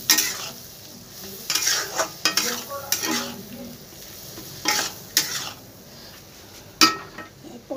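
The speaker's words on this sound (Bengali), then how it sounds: "এরপর সব গুঁড়ো মশলাগুলো দিয়ে দিলাম, দিয়ে ভালো করে কষিয়ে নিতে হবে এটাকে।" Ground spices frying in oil in a pan for a potol curry with katla fish roe, a low sizzle broken by sharp scraping stirs and occasional utensil clinks against the pan, close up.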